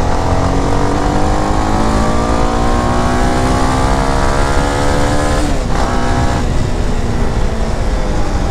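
A CFMOTO 300SR sport motorcycle pulls in second gear, its engine droning loud and close with a rising then dipping pitch as it rolls over a speed bump, drowning out everything else.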